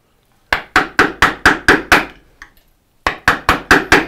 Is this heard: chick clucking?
no